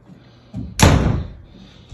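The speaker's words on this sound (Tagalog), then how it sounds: "isang malalakas na pagbubukas sara ng pintuan ang muling bumungat sa kanya" A door bangs open with a soft thump, then slams shut with one loud, close, sharp crash that rings out and fades over about half a second, with no voices.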